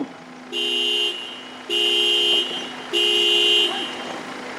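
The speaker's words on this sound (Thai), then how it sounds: "เมื่อได้รับสัญญาณแตรยาวสามครั้ง" A vehicle horn blasts three times during crowd-control drills, each a long steady honk of about half a second or more, over a constant hum of idling engines.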